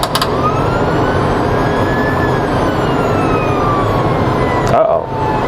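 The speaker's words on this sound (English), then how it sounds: "the siren is just like the one off the ambulance" A loud ambulance-style siren on a museum vehicle wails steadily up close, its tone sliding slowly before cutting off abruptly near the end.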